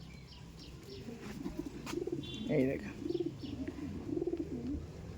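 Male and female pigeons in a loft cooing in soft, repeated throaty rolls, with a burst of wing flapping and faint chirps in the background while someone speaks briefly.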